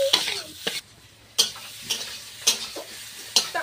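Potatoes being sautéed in a pan in a Sundarbans home kitchen: intermittent scraping stirs and clinks over a faint sizzle, with several sharp strokes spaced apart.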